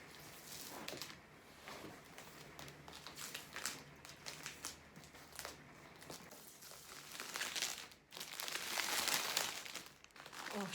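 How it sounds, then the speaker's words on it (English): Protective film peeled by hand from a diamond painting, heard as close, quiet crinkling and crackling in irregular bursts that swell louder toward the end, with no talking. "I'm holding my hand down on the protective layer and peeling back to the middle"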